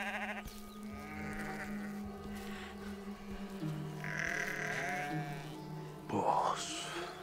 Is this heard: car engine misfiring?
no